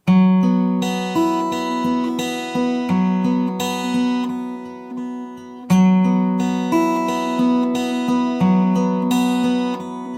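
A plucked guitar plays a repeating melodic line of clear single notes, some phrases loud and others noticeably softer, with no voices.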